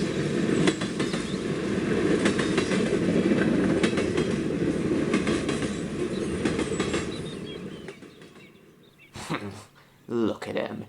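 A train rumbles steadily along the tracks with rhythmic clatter, loud and close, fading after several seconds, followed by brief voices.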